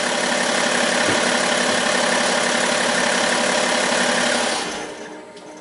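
BMW X5 diesel engine idling steadily at close range, a dense continuous rumble that holds for several seconds and then winds down as the engine is switched off near the end.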